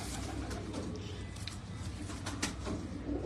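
A pigeon coos softly in a few low, rounded murmurs against faint background noise, quiet and fairly close, without speech.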